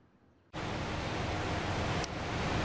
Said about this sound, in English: Now, Jasmine and McKee, you can hear how just loud the James River is where I'm sitting at right now.